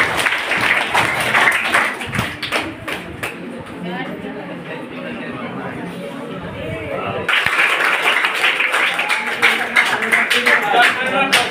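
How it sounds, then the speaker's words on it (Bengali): A crowd of students and staff clapping at a high school prize-giving ceremony, with bursts of applause at the start and end around a quieter stretch of chatter and a voice speaking. "হাততালি দাও সবার জন্য।"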